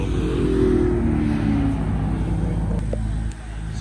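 Purple Chevrolet Camaro SS at a Caffeine & Octane car meet: steady low engine rumble as it rolls in nearby, fairly loud, easing off near the end.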